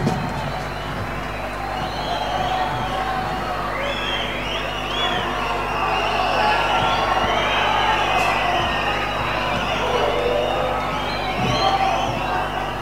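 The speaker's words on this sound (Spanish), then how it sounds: "Fuerte aplauso para Carla" A rock concert crowd at Club Independiente in Neuquén cheers, whoops and claps continuously, a dense roar of many voices with scattered shouts rising and falling throughout.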